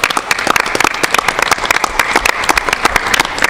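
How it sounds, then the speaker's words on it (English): Board meeting attendees applaud a departing member: loud, close clapping with distinct sharp hand claps over a steady background of many hands. "I want to start a round of applause for him, too, one more time"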